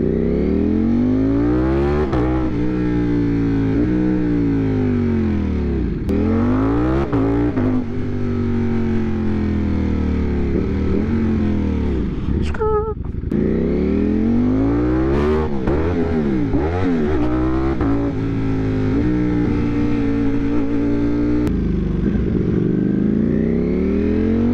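A 1000cc motorcycle engine revs hard on the road, climbing and dropping through repeated throttle sweeps and gear changes. It stays loud and close, with one sharp blip midway and no talk.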